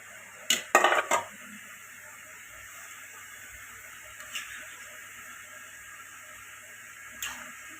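Potatoes tipped into a pot of chicken curry make a quick cluster of clattering knocks against the pot near the start, followed by quiet kitchen hiss and two faint later clinks.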